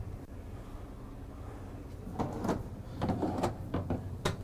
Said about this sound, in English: Now every drawer in here is going to be a soft closing. So just push them